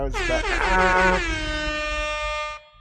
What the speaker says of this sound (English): You should get a honk for that.